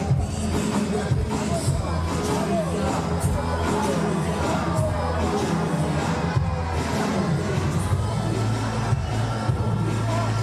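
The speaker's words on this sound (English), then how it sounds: "The DJ doing a good job in getting the crowd going." A stadium crowd at a blind football match roars and chatters continuously while a DJ pumps up the audience, a dense, steady wash of noise with low thumping music underneath.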